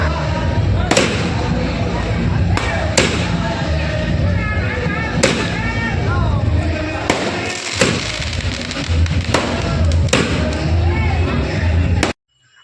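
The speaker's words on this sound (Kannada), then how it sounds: "ಹೀಗೆ ಮತ್ತೊಂದು ಕಡೆ ಪಟಾಕಿ ಸೌಂಡ್." Firecrackers burst in sharp, loud cracks at irregular intervals over a noisy festive crowd with voices in the background.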